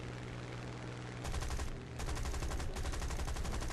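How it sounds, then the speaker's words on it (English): Spitfire Mk.II machine guns in War Thunder rattle in two loud, rapid bursts over a steady engine drone, the first brief and the second longer and sustained. "Pop some shots into him as he flies away."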